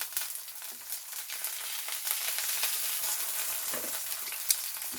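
Steak sears in butter in a pan, giving a loud, continuous close-up sizzle with crackling spits throughout and one sharp pop near the end, with no speech.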